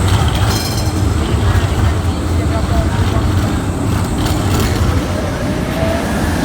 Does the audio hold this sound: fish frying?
no